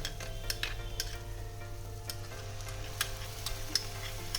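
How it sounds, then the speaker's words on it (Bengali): Spice masala being stir-fried with whisked sour yogurt in a pan for doi katla, a continuous soft sizzle punctuated by sharp, regular ticks of a spatula against the pan, with no talking. "এবার টক দইয়ের সঙ্গে ভালো করে মশলাটাকে কষিয়ে নেব"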